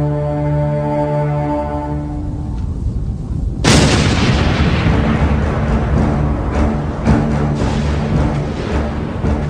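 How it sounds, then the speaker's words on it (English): Big Bertha, the giant German siege cannon, fires once with a sudden loud boom that rolls into a long, rumbling decay, after a low droning lead-in. "Big Bertha, the world's largest cannon."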